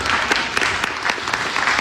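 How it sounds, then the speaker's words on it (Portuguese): A church congregation claps for the Lord Jesus during a Portuguese sermon, a loud sustained round of applause from many hands, even and dense, with a faint voice or two. "Você pode aplaudir o Senhor Jesus?"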